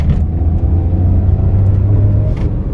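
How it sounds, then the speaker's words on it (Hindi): A car engine pulls lightly in second gear with the air conditioning running, a steady close-up rumble and hum that builds gently and holds throughout. "अपनी कार को सेकंड गियर में डाला है, ये देखो एसी ऑन है अपनी कार की, और एक्सीलेटर दूंगा मैं हल्का सा ही"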